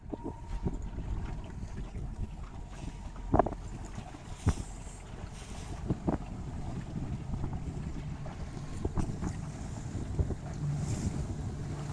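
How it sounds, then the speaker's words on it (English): Wind blows across the water during a youth Optimist sailboat race at national team trials, a steady low rush and buffeting on the microphone, mixed with light water and boat noise and a few soft knocks, with no talking. "now it's gotten a little windier"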